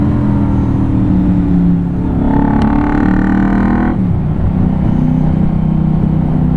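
A 1989 Yamaha V-Max 1200 motorcycle underway, its engine a loud, steady rumble with a brief rise in revs partway through, heard close with strong continuous drone.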